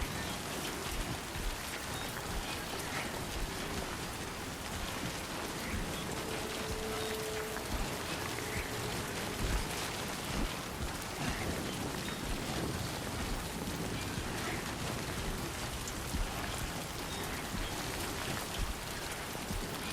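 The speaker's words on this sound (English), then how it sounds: "this is now slippery because it's raining." Steady, dense rain pours without pause in the video game Death Stranding 2, a constant loud hiss of drops on the ground that lasts throughout.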